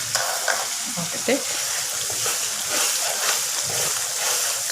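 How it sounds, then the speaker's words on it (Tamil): Masala for crab perattal sizzles in hot oil, a constant bright crackling fry with soft stirring scrapes of a spoon in the pan, close and steady. "இந்த மசாலா கொஞ்சம் எண்ணெயில் நல்லா வேகட்டும்"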